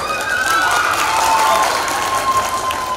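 A live comedy stage show audience gives loud, sustained applause, a dense, even roar of many clapping hands from start to finish.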